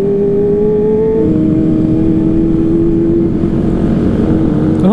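A motorcycle engine droning loud and steady with a sustained exhaust tone that shifts pitch as it is revved, heard up close during a Sunday morning group ride, with no voices over it.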